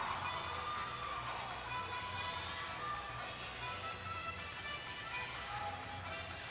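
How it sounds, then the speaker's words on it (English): Gymnastics teammates cheer and clap from the sidelines at a college meet, a steady broad crowd noise with rhythmic clapping running throughout, fairly loud and continuous. "You can see your teammates on the side clapping along"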